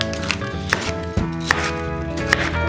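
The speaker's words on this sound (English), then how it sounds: "Go ahead and chop it up." Broccoli, stem and florets, chopped with a knife for green curry soup: a handful of sharp, irregularly spaced chops that stand out over steady background music.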